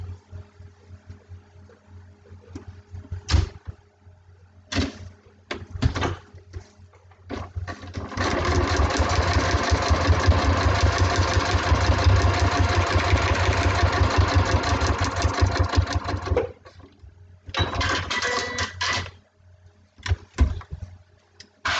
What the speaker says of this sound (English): Machine, and sew our final seam.